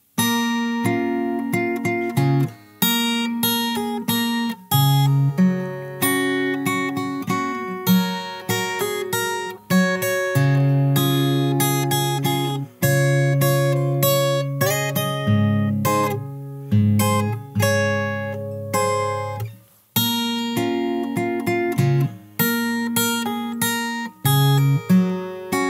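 Fingerstyle acoustic guitar plays a song's chorus through twice, with steady plucked melody over bass notes and strummed accents and brief pauses between passages, solo and close, without talking.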